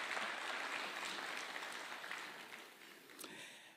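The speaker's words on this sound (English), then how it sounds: "Tupatie hawa majenzi a round of applause." Audience applause for athletes at an official Kenyan event, a dense burst of clapping that starts loud and slowly thins out over a few seconds.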